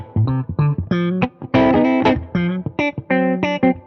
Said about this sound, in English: Moving on to the middle position, I mostly like to use this for a clean, kind of funky rhythm type sound like this.